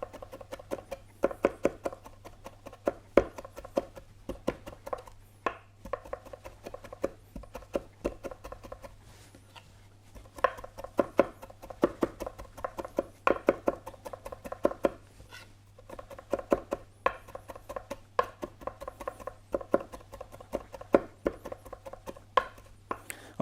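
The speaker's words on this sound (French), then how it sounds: "c'est toujours mieux de hacher au couteau" A kitchen knife chops fresh dill on a board, a fast, steady run of crisp taps in bursts and pauses for over twenty seconds, near and clear, with no talk.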